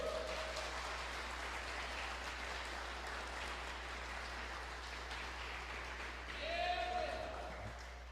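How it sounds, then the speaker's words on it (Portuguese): A church congregation claps together in a sustained, even patter of many hands, with a voice and held tones rising briefly over the applause near the end. "Então aplauda a Deus."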